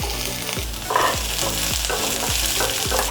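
Thick-sliced onions and chopped green chilli frying in a wok (kadai), a steady close sizzle broken by a regular rhythm of stirring scrapes about every half second.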